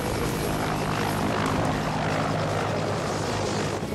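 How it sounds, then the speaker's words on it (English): A helicopter roars steadily overhead, a loud continuous rotor and engine drone with broadband wash that holds for the full few seconds, with no talking. "there's an unidentified helicopter and it's flying toward the rescue craft"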